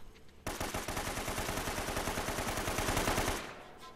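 Sustained automatic gunfire from enemies in Uncharted: Drake's Fortune, a dense rapid rattle of shots starting abruptly and running loud for about three seconds before cutting off.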